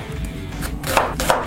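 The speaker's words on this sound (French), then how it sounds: "L'oignon, je le coupe en 2 et je fais un émincé grossièrement." A kitchen knife roughly slices an onion halved for a Filipino recipe, producing a few soft chopping thuds against the board over a low background hum.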